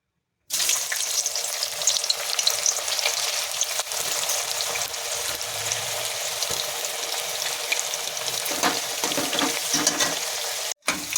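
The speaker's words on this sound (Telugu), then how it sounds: "వీటిని ఆయిల్‌లోను ఏపుకోవాలి. ఆయిల్ వేడెక్కిపోయిందండి." Bitter gourd slices fry in hot oil for a pickle, a steady loud bubbling sizzle running continuously for about ten seconds with no talk.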